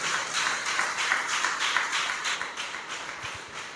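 A congregation claps in praise at a Sunday church service, a steady, dense patter of many hands sustained throughout at moderate loudness with no talk over it.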